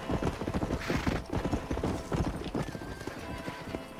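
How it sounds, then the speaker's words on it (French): Horses gallop and neigh in Red Dead Redemption, a dense run of close hoof clip-clops with a whinny rising over them, loud and steady without talk. "Ah tiens, il y a des chevaux."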